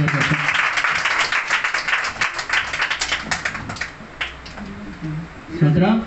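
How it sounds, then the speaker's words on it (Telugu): An audience at a meeting claps after a song, with a dense burst of hand claps that thins out after a few seconds as voices start to talk. "అందరు కూడా చప్పట్లు కొడతాం మంచి పాట."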